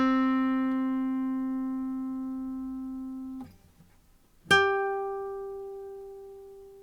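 Two single guitar notes plucked one after another, the second on a thicker string yet higher in pitch; each rings clearly and decays slowly, separated by a brief near-silent gap, with no talking.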